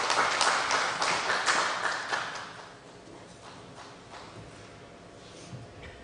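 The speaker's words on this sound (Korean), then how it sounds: "우리 박수로 맞이해 주시고 격려해 주시면 좋겠습니다." An audience at a church testimony gathering gives a short burst of moderately distant applause that quickly thins out and fades into a quiet room.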